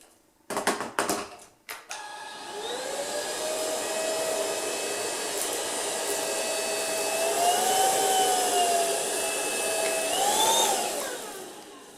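Ultenic U10 vacuum cleaner on speed 1 with a microfiber brush suctioning dust from a floor, starting with a few clattering knocks, then a steady whining motor roar whose pitch rises and falls as it speeds up, close and loud.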